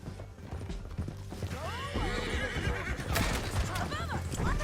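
Horses in the video game Red Dead Redemption, with repeated whinnies and neighs over galloping hoofbeats and clattering tack, heard close and loud while voices shout over the action.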